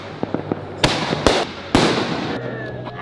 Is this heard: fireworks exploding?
yes